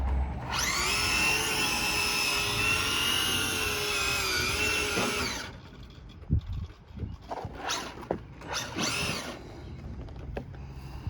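A Traxxas Drag Slash RC car's electric motor whines loudly and steadily for several seconds on a test run, then cuts off, followed by faint clicks and brief shorter revs.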